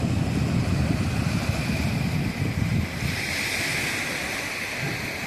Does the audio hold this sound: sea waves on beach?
yes